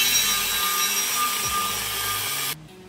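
Power tool cutting a metal bracket to shorten it, a continuous loud high-pitched grinding whine that stops abruptly near the end.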